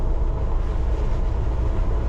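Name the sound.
London Underground Piccadilly line train running through station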